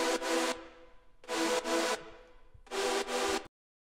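Three bursts of bright, breathy synthesizer chords, each a pair of quick stabs with brief silences between, the last ending abruptly.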